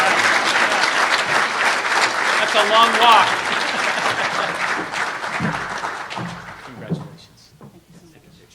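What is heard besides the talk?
audience applause at an awards ceremony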